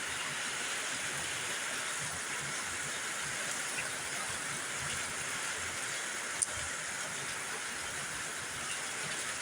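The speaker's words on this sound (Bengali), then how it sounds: "দেখেন বৃষ্টির ফুটা পড়তেছে" Steady rain falling outdoors under a stormy sky, a constant broadband hiss from start to end with one brief sharp tick partway through and no voices.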